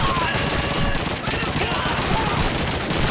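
Dense, continuous gunfire from the 2005 game Call of Duty 2 on the Pipeline level, a steady wash of rapid shots with a voice speaking faintly beneath, loud throughout.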